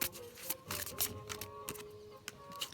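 Tarot cards shuffled by hand during a card reading, heard as a quiet string of soft, papery riffling bursts and taps at an uneven rhythm, close but low in level.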